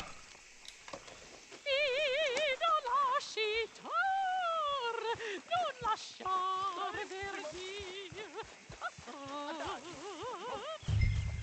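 Horse hooves in Red Dead Redemption 2 clip-clop in a steady, evenly spaced rhythm beneath wavering, pitched vocal sounds that could be whinnies or voices, with the steps continuing to the end.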